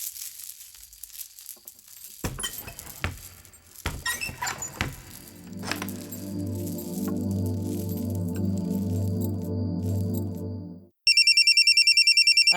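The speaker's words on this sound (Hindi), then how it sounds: "अरे, फोन आ गया।" A phone ringing indoors: scattered handling clicks and rustles first, then a steady sustained ringtone for several seconds, followed by a shrill repeating electronic ring near the end, with no talk.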